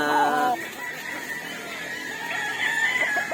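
Chickens on a farm where birds are bred, a brief rooster crow at the start followed by softer clucking and calls in the background.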